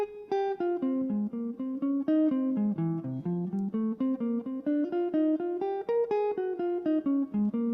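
A guitar plays a jazz solo line in the style of Joe Pass with alternate picking, a steady stream of clean single notes moving up and down at moderate, even loudness with no talking.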